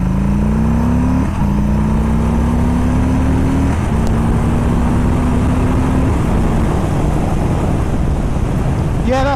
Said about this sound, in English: I just want to drop it down quite low and just see what the acceleration is like